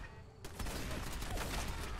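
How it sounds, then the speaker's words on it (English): Rapid 10mm pistol shots in Fallout 4 crack in a dense, loud burst after a brief quieter lead-in, echoing fire filling the rest of the moment. "Since I'm just using a little 10mm pistol."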